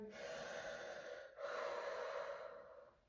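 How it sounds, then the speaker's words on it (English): Two close, audible breaths out through the mouth during a squatting core exercise, each a soft, airy rush with a brief pause between them, no talking. "we're going to do 6 breaths through the mouth"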